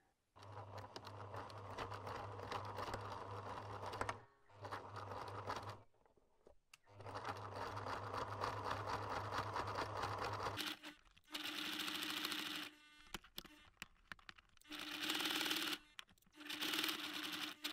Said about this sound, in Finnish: mä ompelen siitä jonkun pienen suoran osuuden ompelukoneella